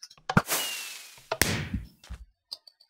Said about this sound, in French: le feu d'artifice va rester piégé dedans et ça va faire une mini-explosion